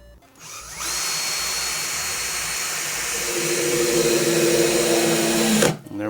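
A power driver whines steadily as screws are driven through plastic into the wooden rib of a barrel, one continuous high run of about five seconds that rises slightly in pitch before stopping abruptly.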